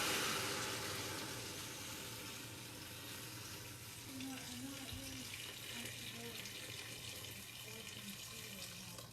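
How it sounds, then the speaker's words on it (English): Filtered water pours into a pot of split pea soup, a continuous splashing stream that fades slightly after the start, heard at moderate distance with faint kitchen noise beneath. "at this point, I'm going to start adding water in"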